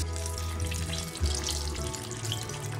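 Torrijas fry in hot oil, a continuous close sizzle and crackle with a low bubbling undertone and a brief stir or shift partway through, and no talking.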